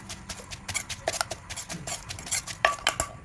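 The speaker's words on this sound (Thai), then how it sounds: "แล้วก็ตำให้แหลกนะคะ ตำตำไปเลยนะคะ" Cockle salad pounded in a mortar with red chillies and long beans, giving a close, irregular run of sharp knocks and clinks with short pauses, no talking.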